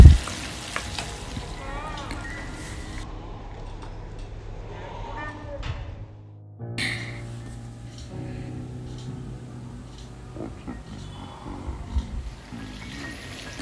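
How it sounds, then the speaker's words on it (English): Oil sizzles and crackles steadily as quail pieces fry, with clattering utensil stirs and a voice talking over the cooking. "just check the quail pieces. It's frying nicely."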